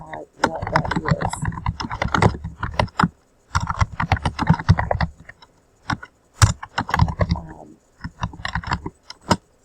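Typing on a computer keyboard, bursts of rapid close clicking keystrokes separated by short pauses, loud and dry in a quiet room.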